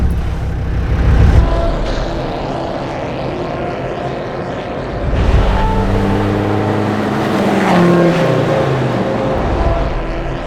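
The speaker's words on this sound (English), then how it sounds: "It just feels such a raw experience to be driving this car" A Land Rover Defender 90 drives along with a loud, raw engine drone and road noise, rising in pitch as it accelerates.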